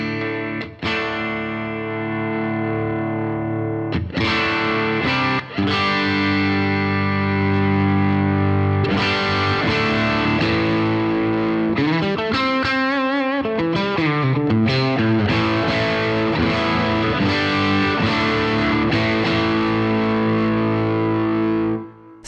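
Electric guitar through a cranked, overdriven Matchless Lightning amp with the boost pedal off, playing loud, thick, distorted chords and riffs continuously, with bending and sustained notes and no talking.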